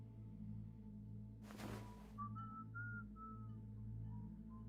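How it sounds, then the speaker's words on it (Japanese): A person whistles a short melodic tune of several sustained notes, fairly clear over a steady low hum and a brief burst of noise, during gameplay of Sherlock Holmes: Crimes and Punishments. "口笛吹いてるの誰？"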